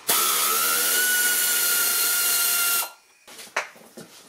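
A power tool loosens a bolt on a Mercedes W203 shock absorber: a loud, steady mechanical whir runs for nearly three seconds and then stops, followed by a few faint clinks and knocks.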